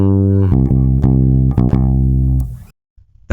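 A single guitar plays a bar from a song: clean, sustained notes changing in steps, then cut off into near silence with a faint trailing sound.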